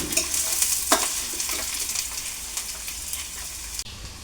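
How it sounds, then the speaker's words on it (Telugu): Onion pieces sizzle and fry in hot oil with fenugreek seeds in a pan for a Telugu korameenu fish curry, with scraping stir strokes of a spoon heard close and steady throughout, no talking. "ఉల్లిపాయలు బాగా వేగుతున్నాయండి"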